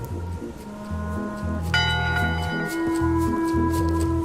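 Ship's bell struck once in Return to Monkey Island, a bright metallic ring with a long sustained tone over a plodding low game music loop, with no speech.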